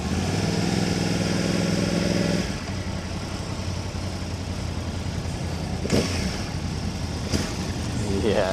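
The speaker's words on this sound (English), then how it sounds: "one last little rev" A liter-class motorcycle engine revs up briefly with a harmonic whine, then drops back to a rough, steady idle, with a couple of sharp blips at a motorcycle show.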